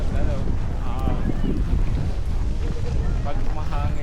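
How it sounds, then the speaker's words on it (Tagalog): Strong wind blows across the microphone at a ski resort in the cold. It makes a loud, steady rumbling buffet throughout, and people talk faintly underneath. "Pag mahangin. Malamig,"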